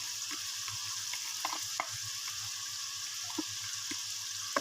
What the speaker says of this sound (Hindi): तो हम अब इसमें अपने प्याज ऐड कर देंगे और प्याज को अच्छी तरह से भूनेंगे